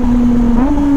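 A Kawasaki ZX25R motorcycle sounds a quick automatic throttle blip on a downshift, a short upward jump in engine pitch over a steady close, loud drone. There is no talking.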